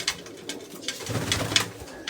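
A pigeon's low, throaty coo rises midway, accompanied by scattered sharp clicks and rustles nearby.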